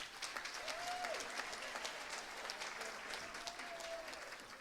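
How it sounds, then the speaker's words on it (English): A room full of people claps steadily throughout, with a faint voice briefly audible under the applause. "so big round of applause for Sital's family as well."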